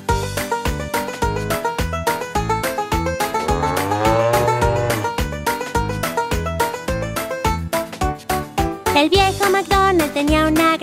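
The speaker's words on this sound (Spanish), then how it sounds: "Y en su granja tenía una vaca," Cow moos sung within a Spanish children's farm song, with a bouncy steady beat, layered melody and bright backing throughout, the mooing woven loudly into the music.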